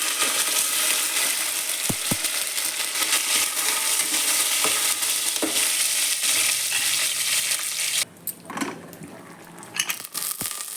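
Broken dried red chillies fry in hot oil for a tempering, a loud, steady close sizzle that goes on throughout, with a few stirring clinks and a short dip near the end.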